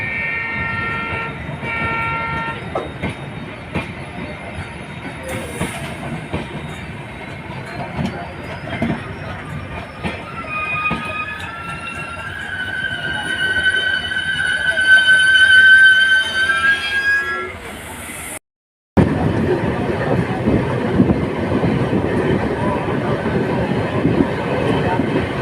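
A diesel train on the Samastipur to Lucknow Charbagh route rumbles along with steady wheel and carriage noise, a long horn sounding partway through, and a sudden brief dropout before the rolling noise resumes.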